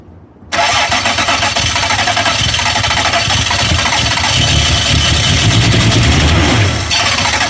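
An old Toyota Supra, left unrun for ten years, cranks steadily and loudly without catching, a continuous churning drone that starts abruptly and runs close by without a break.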